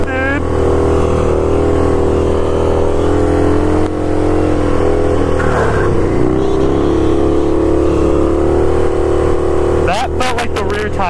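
A car engine revving hard while driving, a loud sustained drone that climbs and dips with the throttle, then a burst of sharp rapid pops near the end; close and dominant over the cabin.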